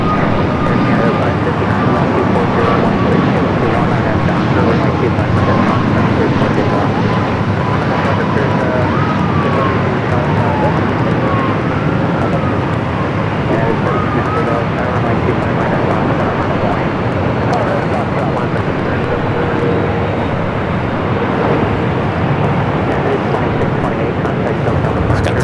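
A Virgin Boeing 787 Dreamliner arriving from London Heathrow on runway 24R at Los Angeles airport, a loud continuous jet roar with a faint descending whine, heard under intermittent talk.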